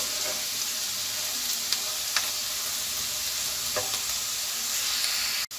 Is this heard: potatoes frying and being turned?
yes